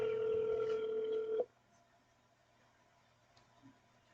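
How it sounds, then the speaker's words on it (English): A single steady telephone tone sounds during a sheriff's office call transfer, holding loud for about a second and a half before cutting off to quiet line hiss. "Wait while I transfer your call."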